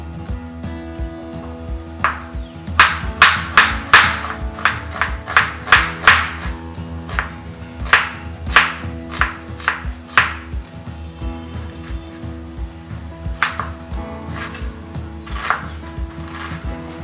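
A knife finely chopping a medium-sized onion for dal strikes the board in quick, regular taps, grouped into bursts separated by short pauses, crisp and close with no talking.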